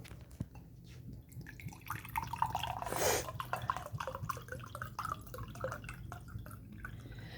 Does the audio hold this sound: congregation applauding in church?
no